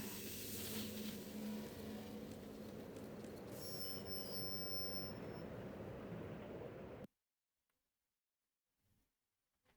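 A tram in the video game Quake 4 rolls on rails with a steady rumbling roar and brief high metallic squeals, then cuts off abruptly into near silence with faint clicks.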